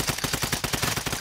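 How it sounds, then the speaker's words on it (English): Gunfire in a multiplayer battle-royale video game: a close, loud, rapid burst of evenly spaced shots firing continuously through the whole short moment. "Oh, I'm getting sniped from that other one."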